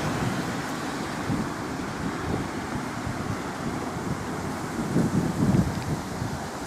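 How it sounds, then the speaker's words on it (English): A small waterfall on Driffield Beck gives a steady, broadband rushing of falling water, constant and fairly close, swelling slightly near the end with no talking. "A nice little waterfall."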